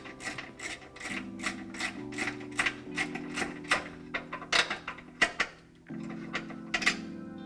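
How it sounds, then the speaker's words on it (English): A 10mm socket turns out the O2 sensor bolt on a Toyota Corolla, a steady series of close, rapid ratchet clicks in short bursts with brief pauses, loud and clear with no talking. "step one is to remove the O2 sensor bolt with a 10mm socket."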